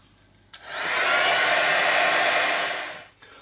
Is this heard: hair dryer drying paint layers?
yes